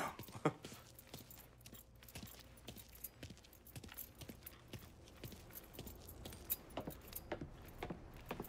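A bunch of keys jangles in the video game Mafia 3, a faint, steady run of small metallic clinks and rattles lasting several seconds.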